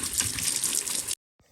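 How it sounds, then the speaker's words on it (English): Tap water gushes steadily into a sink while oil dispensers are rinsed out, loud and close for about a second before it abruptly stops, followed by a faint brief rustle. "Here I am washing out the oil dispensers."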